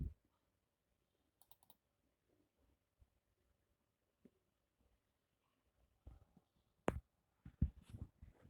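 Computer mouse clicks sound as sparse, faint, sharp ticks spread across a quiet room, a few isolated clicks early and a denser cluster of louder clicks and handling noises toward the end, no talking.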